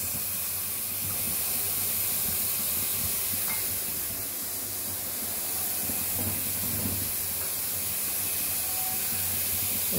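Onion fries in mustard oil for a rohu fish curry with tomato and potato, a continuous loud hissing sizzle close by, steady throughout with faint stirring knocks underneath.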